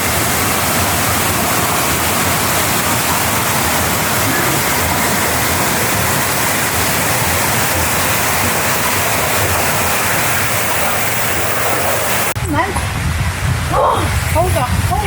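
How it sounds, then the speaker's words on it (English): Steady broadband rush of a small babbling brook flowing through a family park, loud and continuous throughout, with a brief change near the end as other sounds cut in. "there was a little family park here with a little babbling brook running through."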